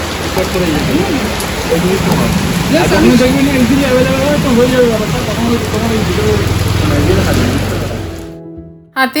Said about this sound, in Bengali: আটকে গেলাম বৃষ্টিতে আর কি করা যাবে আর বেশ ভালো জোরেই বৃষ্টি হচ্ছে